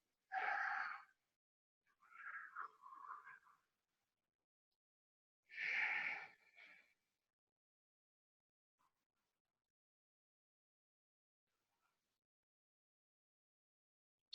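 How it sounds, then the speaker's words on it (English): Deep, audible ujjayi breaths during a yoga pose, heard as three or four close, throaty oceanic inhales and exhales separated by long silences. "Ujjayi pranayama if you can."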